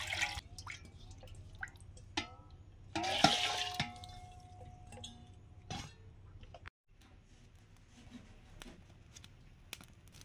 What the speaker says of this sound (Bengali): ভাত বসাবো, চাল ধুয়ে দিয়েছি, হাঁড়িতে দিয়ে দিয়েছি, এবার জল দিয়ে দেবো।